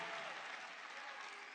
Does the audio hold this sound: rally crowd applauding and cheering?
yes